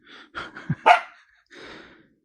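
A dog barks a few times nearby, short sharp yaps spaced through a couple of seconds, with quiet gaps between them.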